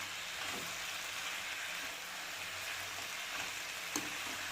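Grated coconut is stirred into a frying pan of gherkin curry (tondekai palya), giving a soft, even, continuous sizzle with faint scraping of the spoon, quiet and without talk.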